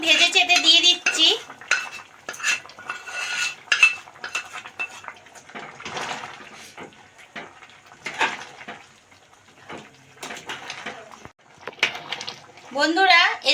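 Fried spice paste is stirred into boiled peas in a pot, giving a scattered run of close metal spoon clinks and scrapes against the pot while someone talks over it, with a faint sizzle in places.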